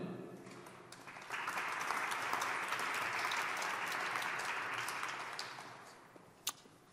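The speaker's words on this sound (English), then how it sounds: "You get your applause." Applause from a conference audience gathered for a European NGO meeting, a dense steady wash of many hands clapping that swells after a moment, holds, then fades out, ending with a single sharp clap.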